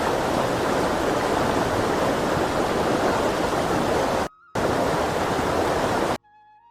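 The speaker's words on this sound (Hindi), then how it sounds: "यह इंडिया का one of the highest waterfall है जो फ्री फ्लो से गिरता है।" A tall free-falling waterfall in Chakrata, Uttarakhand roars loud and steady with heavy spray, cut off briefly by a short gap before it resumes and ends abruptly.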